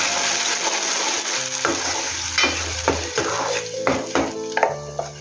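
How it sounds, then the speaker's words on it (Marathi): Ground masala paste goes into a hot, sizzling tempering for a Karli fish curry, giving a steady loud sizzle with scraping stirs and several sharp clinks of a spoon against the pan. "तर मी आता त्यात हे वाटण टाकते"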